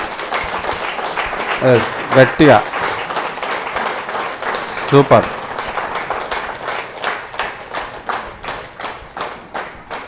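Audience at a birthday celebration event in Bodhan clapping in a steady, fairly loud patter of applause, with people talking and calling out briefly over it.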